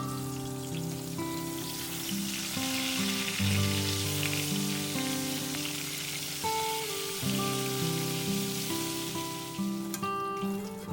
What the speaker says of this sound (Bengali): তেল গরম হতেই তেলে একদম পুরো লাল লাল করে মানে মুচমুচে করে ভেজে নেব